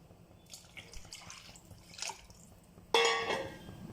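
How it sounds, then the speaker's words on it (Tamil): Water poured into a pot of rice and lentil pongal, a faint trickle and splashing that ends in a louder burst of pouring, close by in a quiet kitchen. "இன்னும் 1 கப் அளவு தண்ணி ஊற்றிக்கலாம்"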